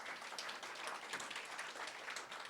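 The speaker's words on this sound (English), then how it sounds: "Big round of applause for Qlink, Susan Zhao and her team" An audience at a blockchain network launch event gives a team a steady round of applause, dense overlapping clapping heard faintly and evenly throughout.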